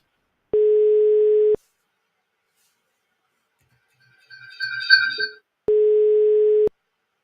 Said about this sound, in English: There's the call. You can hear on the laptop. So it's, the tone is working.